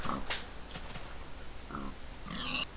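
Pigs in the Minecraft video game grunt and oink in a few short, separate calls over a low, steady background.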